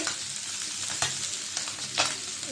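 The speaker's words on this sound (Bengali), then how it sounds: "মাছটা বাজা হয়েছে পিঠটা উল্টিয়ে দেবো এখন মাছটা বাজা হয়েছে" Stinging catfish (shing) fries in a pan of hot oil with a steady, close crackling sizzle, broken by a few sharper pops and scrapes as it is moved.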